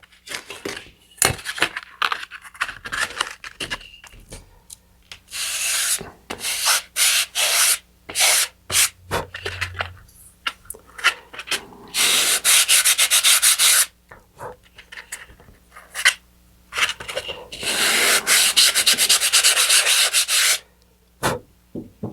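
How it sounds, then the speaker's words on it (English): Sandpaper rubs plastic parts of an Apogee Nebula ST model rocket kit to remove nubs, first in short scratchy strokes, then in longer, steady, loud back-and-forth passes, close up and with no talking. "If there's any nubs on the backs of these, I want to sand those off here real quick."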